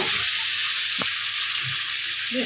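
Curry masala frying in oil in a pan, the spices cooked down until the oil separates, giving a steady broad hiss with a soft stirring knock, close and continuous.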